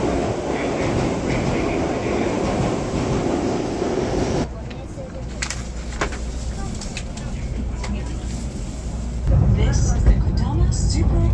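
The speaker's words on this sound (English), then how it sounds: "I'm very excited to catch the bullet train though" A train moves through a Japanese railway station, a loud rumbling roar with rattling and clattering that drops briefly in the middle before surging again toward the end.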